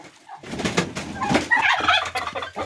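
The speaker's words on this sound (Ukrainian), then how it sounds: "О, це молодий індик." A young turkey gobbles in a farmyard, a burst of loud, rapid, quavering calls close by, with other fowl chattering around it.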